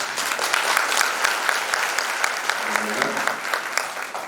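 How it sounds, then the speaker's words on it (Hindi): Sustained applause from a crowd at a youth camp at Shantikunj, dense and even with scattered sharper claps, continuing steadily without letting up. "जोरदार तालियों से"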